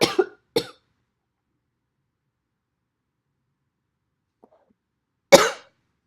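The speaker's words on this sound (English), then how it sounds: "Sorry for that coughing break." Three short, sharp coughs from one person indoors during a lecture: two quick coughs close together, a long silence, then one louder final cough.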